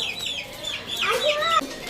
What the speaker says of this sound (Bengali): তাদের হচ্ছে হাঁস মুরগিগুলো এদিকে আছে